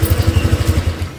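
Honda Vario motorcycle engine running with a low, rough, pulsing throb, close and steady with little rise in pitch.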